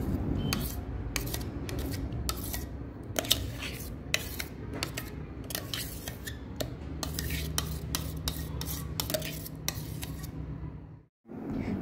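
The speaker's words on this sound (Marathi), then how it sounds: "दोन 3 चिमूट वेलची टाकून नीट मिक्स करून घ्यायचा" A spoon stirs cardamom into thick mulberry and jaggery chakka in a bowl, with a close, continuous run of scraping, clicking strokes against the vessel, no talking.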